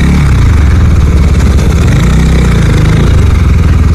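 A KTM RC390 motorcycle, BS6 version, running close up with a loud, steady, throbbing exhaust note at constant revs throughout, with no talking.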